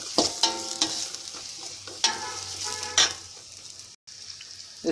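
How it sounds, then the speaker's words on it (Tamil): Onions and green chili frying in a pan until golden brown for a vegetable pulao, with a constant sizzle broken by several sharp clicks of a stirring spoon against the pan, then a brief pause near the end. "நல்லா வந்து கோல்டன் ப்ரௌனாக வர வைக்கி நல்லா வறுத்துக்கணும்."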